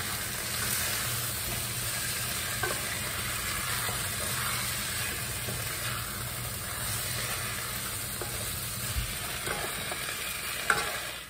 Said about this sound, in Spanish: También lo que ya picamos, el ajo y el cebollín, lo vamos a poner. Todo esto se hace a fuego bajito